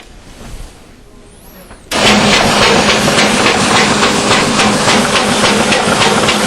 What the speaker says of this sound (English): up here it is trimming that side tractor feed off